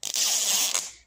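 A zipper on a glittery LOL Surprise toy is pulled open in one quick, continuous rasp with a brief catch at the start. It is fairly quiet, close up, and no one speaks.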